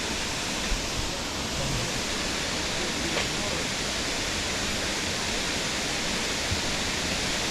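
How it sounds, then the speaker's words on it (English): A 35-meter waterfall in Brazil's rainforest pours as a dense, constant roar, loud and close, filling the scene with broadband rushing noise, with a voice faintly beneath. "Oh, beautiful waterfall. 35 meters."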